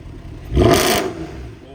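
A single quick throttle blip roars through a loud Mercedes C63 AMG exhaust, rising and fading within a second over a low idle.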